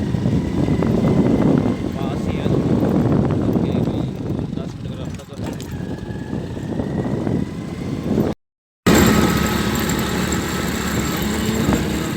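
A motorbike engine drones steadily while riding, with wind and road rumble throughout and a brief cut in the sound, and someone talks over it.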